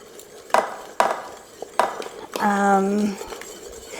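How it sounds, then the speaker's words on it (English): Melting cheese stirred in an Instant Pot, with three sharp metal spoon knocks against the inner pot and a brief scraping, squeaky stir near the end, close and clear. "But you just gotta keep stirring."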